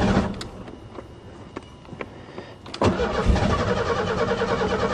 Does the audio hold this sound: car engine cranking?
yes